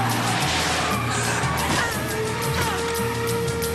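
Film scene of a killer striking his partner with a car: a sustained engine roar with tire screech and a thud of impact, fairly loud and continuous over a dense music-like backdrop, with a voice briefly audible.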